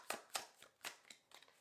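Tarot cards riffle and snap through several quick shuffles, a run of short crisp bursts at close range, with no voice over them.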